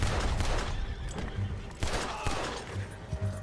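A horse in Red Dead Redemption 2 neighs amid game noise, with gunfire-like cracks and bursts punctuating a busy, loud mix.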